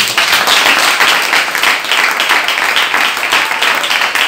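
A church congregation claps and applauds steadily throughout, a dense, loud wash of many hands with no break.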